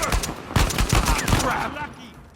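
Sniper and rifle fire in the video game Uncharted 4, a quick run of sharp gunshot cracks spread over about two seconds, loud and close, trailing into quieter reverb.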